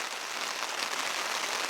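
Steady rain patters densely on surfaces at a canoe campsite, a continuous close hiss of drops throughout with no voices.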